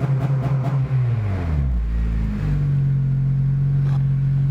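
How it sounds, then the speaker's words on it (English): A Honda engine fitted with a J's Racing 70rr exhaust is revved up and allowed to settle into a loud, steady idle, with a couple of rising revs heard up close. "let's rev it a bit and see how it sounds"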